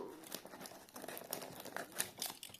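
Quiet, close crinkling and tearing of heavily taped parcel packaging, irregular rustles and rips as the parcel is cut and pulled open.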